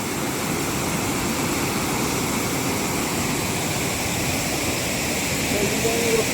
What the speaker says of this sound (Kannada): ಇಲ್ಲೊಂದು ಚಿಕ್ಕ ವಾಟರ್ ಫಾಲ್ಸ್ ಇದೆ